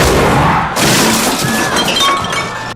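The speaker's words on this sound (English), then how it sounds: "sends him crashing onto a table of food" A man crashes onto a table of food in a loud sudden smash of breaking glass and clattering dishes, followed by scattered clinks and debris settling, close and dense.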